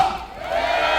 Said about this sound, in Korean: 여러분들 박수를 믿고 돌아가도 되겠습니까?